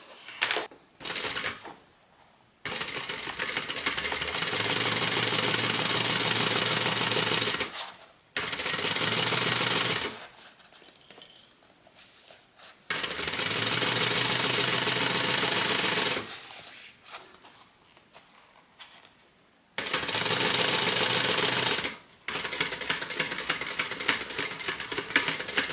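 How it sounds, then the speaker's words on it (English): A domestic sewing machine stitches a flap onto an angled asymmetrical handbag in close, loud runs of rapid needle chatter lasting several seconds each, separated by quiet pauses and small handling noises, with no talking. "We're going to stitch this on, but not all the way to the edge."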